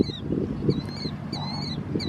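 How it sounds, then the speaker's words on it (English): A bird calls repeatedly outdoors at a high tunnel greenhouse build site, with several bright, rising chirped notes spread across the moment over a constant low rumble of wind or background noise. "Shut up, bird."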